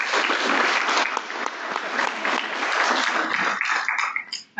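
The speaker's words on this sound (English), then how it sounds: "So, round of applause for these people." An audience applauding a volunteer board, steady and fairly close crowd clapping that holds for several seconds and then trails off into a few scattered claps.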